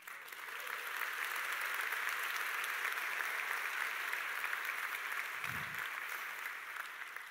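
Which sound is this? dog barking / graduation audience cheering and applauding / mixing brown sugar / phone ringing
graduation audience cheering and applauding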